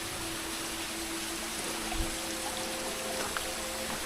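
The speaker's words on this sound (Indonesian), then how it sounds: "Oh, itu ada pancuran tuh air, seperti mini air terjun ya." Water spilling from a spout like a small waterfall at a spring in Bali, a steady, soft, continuous rushing with no breaks, heard alone.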